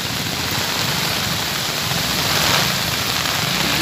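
Heavy rain pouring over flooded Hyderabad city streets, a loud, steady broadband hiss of downpour with no pauses.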